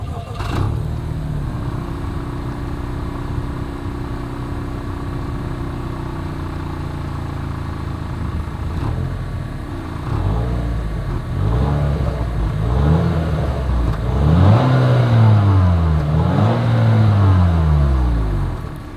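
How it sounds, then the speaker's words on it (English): A 2023 Acura RDX engine idles with a low rumble, then its exhaust revs up several times in rising and falling bursts, growing louder toward the end. "here is that exhaust clip"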